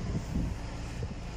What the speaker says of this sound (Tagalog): kung maririnig po ninyo dito sa kanyang air duct dito, yung paglabas ng hangin niya